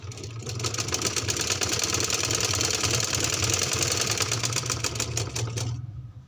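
A sewing machine stitching the shoulder seams of a baby frock, a fast steady mechanical rattle running for about five seconds close up before stopping abruptly.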